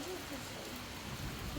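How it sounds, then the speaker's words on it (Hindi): Unseasonal rain falls in a steady, soft hiss, faint and continuous with no distinct drops standing out. "बारिश हो रही है बढ़िया"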